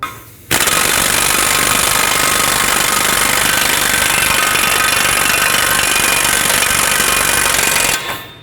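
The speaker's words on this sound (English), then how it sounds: "I'm going to use my air impact to bottom this out" An air impact wrench bottoms out the axle nut on a front CV axle of a 2007-2009 Saturn Aura, one loud continuous rattling hammer burst lasting about seven seconds, close up, then it cuts off.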